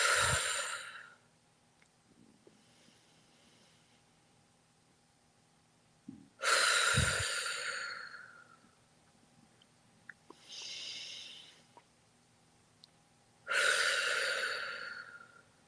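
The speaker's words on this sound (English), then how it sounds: "let's close with 3 deep breaths" Three deep breaths are taken during a closing meditation, close and alone, each a long loud breath spread over several seconds with quiet gaps between, and the breathing seems to include some in and out sounds.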